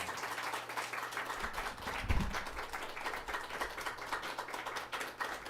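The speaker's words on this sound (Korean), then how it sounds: "우리 박수로 환영하도록 하겠습니다" A church congregation at a Sunday family worship service claps steadily to welcome a visiting pastor. The soft, dense applause continues throughout over a faint low hum.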